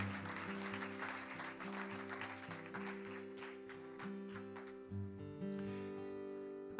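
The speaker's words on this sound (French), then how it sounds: "On peut l'applaudir." Audience applause at a band concert near Lausanne, crowd clapping over sustained keyboard chords that keep playing, fading after a few seconds while the music continues.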